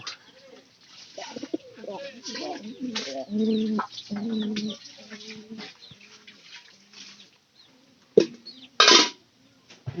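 Pigeons with chicks in their nest, gathering nesting sticks, coo close by in repeated throaty rolls, with a few sharp clatters and flutters between the calls.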